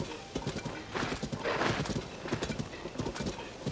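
Galloping horse hooves in Zelda: Tears of the Kingdom, a fast, rhythmic clip-clop of repeated hoof strikes running continuously and up close, with faint snorting.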